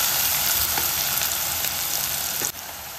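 Onions and green chillies frying in hot oil give a loud, dense, continuous sizzle with occasional stir strokes, dipping slightly in level toward the end.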